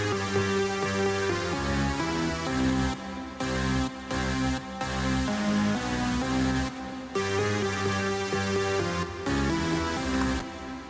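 Four stacked trance synth leads playing together, a thick, bright sustained melody with steady chord shifts and brief rhythmic gaps, loud and up close with nothing else over it.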